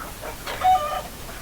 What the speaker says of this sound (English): And they've got chickens.